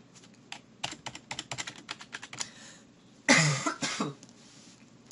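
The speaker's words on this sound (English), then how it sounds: "and we're going to type that in." Clicky keystrokes on a computer keyboard as a number is entered in an Xbox 360 Fallout 3 mod setup, irregular quick taps near and moderately loud, followed by a cough.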